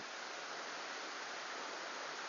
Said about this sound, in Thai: ตอนนี้เราอยู่ที่น้ำตก ชั้นที่สี่นะครับ